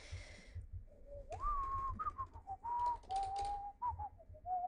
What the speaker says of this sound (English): Can you get a copy strike for whistling a song on YouTube?